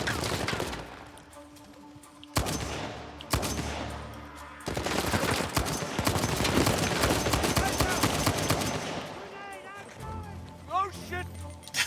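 Heavy video game gunfire crackles in dense, rapid bursts with brief pauses, loud and close, and a voice talks over the shooting near the end.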